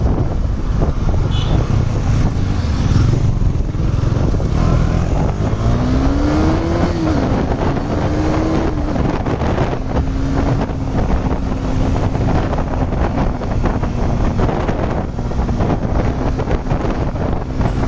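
A KTM motorcycle being ridden gives a steady engine drone, its pitch rising and then holding, half buried under loud, constant wind buffeting on the microphone.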